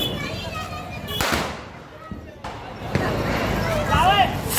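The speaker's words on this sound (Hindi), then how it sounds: "ये रॉकेट।" Rocket fireworks and crackers go off during Diwali celebrations, with a couple of sharp bangs and a rushing, whistling launch amid crowd noise while people talk nearby.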